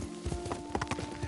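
Horse hooves clip-clopping in a steady ridden gait in Ghost of Tsushima, close and clear, with a steady tonal hum and faint music behind.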